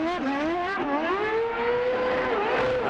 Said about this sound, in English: he just pegs it on the rev limiter and puts a little flourish